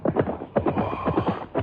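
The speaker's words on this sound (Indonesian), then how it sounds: "Suara derap kuda, loh." Horse hooves pounding in a rapid, irregular galloping rhythm, fairly close and loud, with no talk over them, the rumble of riders approaching a hideout.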